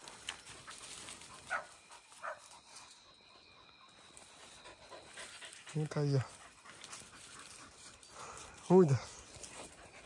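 An injured hunting dog whimpers and pants after a hunt, with breathy panting and a couple of short high whines rising out of quiet outdoor ambience, while someone speaks briefly nearby.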